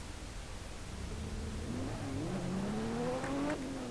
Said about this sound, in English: Then the sounds, the engines, are very meaty and complete. Just listen to that engine.